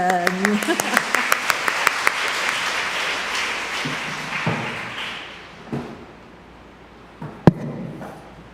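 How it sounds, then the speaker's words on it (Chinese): An audience at a memorial concert applauds in a hall: a dense burst of clapping that swells, then thins out and fades, with a few scattered thuds and a voice near the end. "给他一个掌声"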